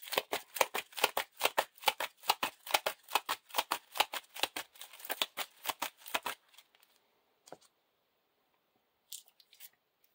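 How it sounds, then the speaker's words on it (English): Playing cards being riffle-shuffled into a deck during a Lord of the Rings card game, a rapid run of crisp, close flutters for about six seconds, then a brief tap and a short final flurry. "I get a shuffle a Ranger of the North into the deck."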